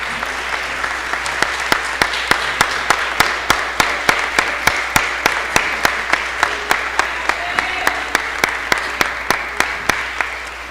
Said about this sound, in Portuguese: Quantos podem aplaudir a Jesus por isso?